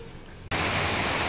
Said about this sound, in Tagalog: Maulan na naman dito sa amin guys no?